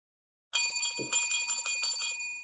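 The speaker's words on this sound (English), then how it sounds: "That bell right there does not mean the end of the 3-way dance like it usually does." A bell rung during a wrestling podcast gives a bright, sustained ring that starts suddenly and keeps ringing. A brief low thump falls partway through.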